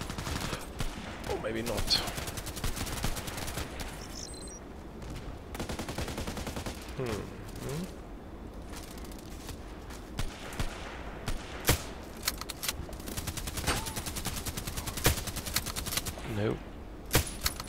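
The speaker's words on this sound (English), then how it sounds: "Hearing some shots from there." Gunfire in an online shooter played with an SV98 sniper rifle on the Site map: sharp shots crack now and then, some distant, over steady game noise while a player talks.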